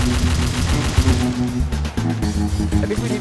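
Video game gunfire, loud and rapid, with dense overlapping shots firing almost continuously through the short stretch.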